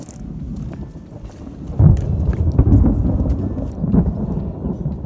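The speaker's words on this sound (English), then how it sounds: "there's the storm coming our way" Low thunder rolls from an approaching storm along the Appalachian Trail, a deep, rumbling swell that builds and fades in distant waves, with a steady background of wind and no talk.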